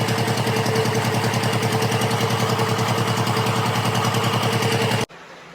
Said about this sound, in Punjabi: ਛੋਟੀ ਜਿਹੀ ਰੇੜੀ ਬਣਾ ਕੇ ਵਿੱਚ ਜਗਾੜ ਫਿੱਟ ਕੀਤਾ ਹੋਇਆ ਹੈਗਾ ਆ ਇੰਜਨ ਪਿਛਲੇ ਪਾਸੇ ਹੈਗਾ